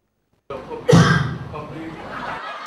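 One sharp cough bursts out near the start, followed by a murmuring voice.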